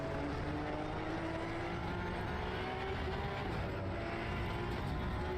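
Porsche race car in the Assetto Corsa Evo racing game, a steady dense engine roar held at high revs throughout, loud and close with no pauses or talking.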